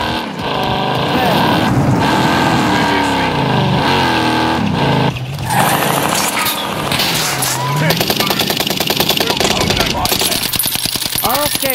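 A vehicle being driven in Call of Duty Modern Warfare, its engine droning loud and close and rising and falling with speed, with bursts of gunfire and rattling toward the end and players talking over it.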